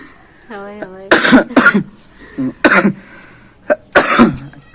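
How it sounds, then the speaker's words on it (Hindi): A person coughs several times in harsh bursts, mixed with laughter-like voiced sounds, close to the microphone. "हंसी मारे खांसी आ गई।"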